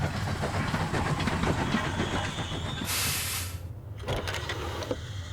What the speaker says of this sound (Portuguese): Com a ligação feita, a gente consegue ligar o trem novamente